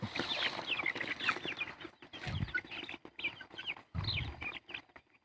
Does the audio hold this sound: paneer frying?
no